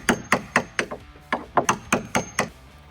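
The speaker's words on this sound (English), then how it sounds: "I'm gonna even use one of these little chisels." A small chisel strikes a faux wood beam to distress it, about a dozen sharp knocking taps in an uneven rhythm, close and clear with no speech.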